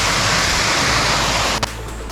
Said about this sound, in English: It's a pretty waterfall.